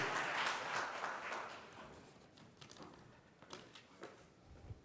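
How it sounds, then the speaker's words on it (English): Applause at a professional chartered accountants' institute event for a chapter vice chairman, loud at first and then thinning into scattered, uneven claps that fade toward the end. "A round of applause for our Vice Chairman of the chapter."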